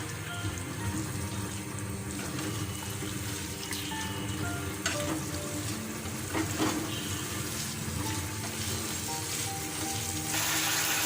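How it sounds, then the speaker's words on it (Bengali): Small-cut chicken pieces for a Chinese-style chicken curry sizzling and frying in a pan while being stirred, a steady loud hiss with occasional scraping clatters and a brief watery rush near the end. "তাই আমি মাংসটা এখন দিয়ে দিব। এটাকে আমি নেড়ে চেড়ে 10 মিনিট ঢাকা দিয়ে রাখবো।"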